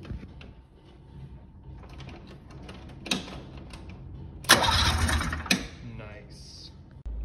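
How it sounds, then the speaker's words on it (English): Starter cranking the engine of a 1979 Ski-doo Everest snowmobile: a loud, close mechanical whir lasting about a second, with brief clicks and clunks before and after, against a background of fainter shuffling. "I'm just gonna bump the throttle, or sorry, bump the key and see what happens"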